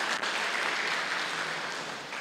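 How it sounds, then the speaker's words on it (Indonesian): Workshop attendees at a school curriculum session give a dense burst of applause, many hands clapping at once in a continuous wash that fades slightly toward the end. "tepuk tangan berkali-kali untuk Bapak Ibu."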